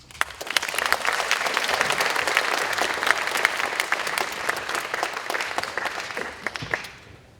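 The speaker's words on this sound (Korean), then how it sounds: "장인의 길을 주제로 특강하실 초정 권창윤 선생님을 힘찬 박수로 모시겠습니다." An audience of students applauds to welcome a guest lecturer at a memorial lecture, a dense, steady round of clapping that fills the room for about seven seconds and then fades out.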